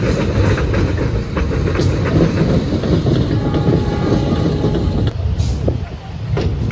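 CC201 diesel locomotive shunting back toward its Serayu passenger train: a loud, close rumble of engine and rolling wheels with steady rail noise and faint squeals, continuous throughout.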